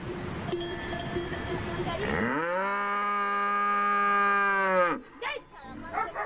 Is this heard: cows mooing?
yes